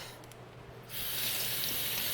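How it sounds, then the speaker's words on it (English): Running water from a sink tap as hands are washed, a steady close hiss that starts abruptly partway through and continues loudly to the end, with no talking. "Let me just wash my hands"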